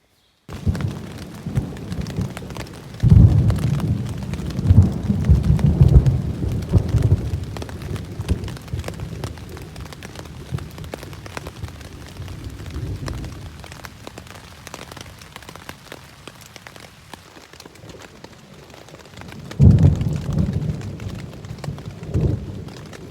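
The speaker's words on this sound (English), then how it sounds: "It is some pretty loud thunder. Very frequent lightning" Heavy rain pours steadily on a camp along the Appalachian Trail during a thunderstorm, with loud, deep rolls of thunder rumbling in near the start and again toward the end.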